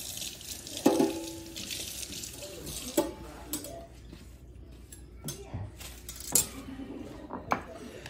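Utensils scrape and clink against a bowl while Mexican street corn ingredients are mixed, with running water and occasional sharper dish knocks in a busy kitchen.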